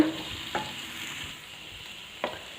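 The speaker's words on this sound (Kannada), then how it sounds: "ಫ್ರೆಶ್ ಆಗಿರುವಂಥ ಬೆಂಡೆಕಾಯಿ ಎಣ್ಣೆಯಲ್ಲಿ ನಾವು ಹಾಕಿ ಫ್ರೈ ಮಾಡಿದಾಗ ಪೂರ್ತಿ ಸೈಜಲ್ಲೂ ಸಮೇತ ಚಿಕ್ಕದಾಗುತ್ತೆ" Fresh okra frying in oil for a sambar, giving a steady, moderate sizzle with two brief scraping stirs near the start and end, no voices present.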